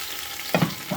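Coriander leaves, chili, ginger and garlic hitting hot oil together, giving a short burst of sizzling and stirring in the second half after a quiet start, close and moderately loud with no talking.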